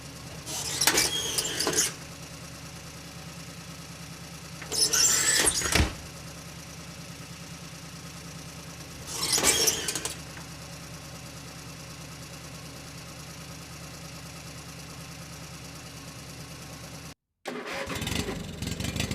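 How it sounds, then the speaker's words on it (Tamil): Lorry engine revving in three loud surges separated by steady idling, heard close while soil is dumped at a new house construction site, with a brief cutout near the end before the engine noise resumes. "இந்த லாரியில இருந்து இப்ப மண்ணு கொட்ட போறாங்களோ?"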